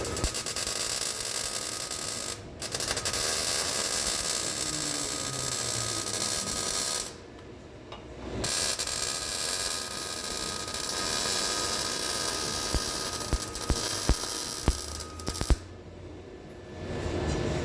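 A joint is welded with a steady, harsh crackling hiss that runs loud and close, breaking off briefly in a few short pauses before the arc resumes, with scattered ticks and no talking.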